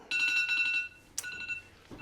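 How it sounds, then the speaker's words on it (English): A kitchen timer goes off with a rapid electronic beeping burst, then a second shorter beep pattern follows, clear and close in a quiet kitchen. "There goes my timer."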